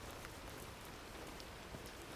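Soft, steady rain falling on a surface, a faint continuous patter with occasional distinct drops, heard alone and quiet with no voices.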